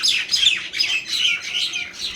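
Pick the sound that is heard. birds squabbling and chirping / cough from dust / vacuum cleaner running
birds squabbling and chirping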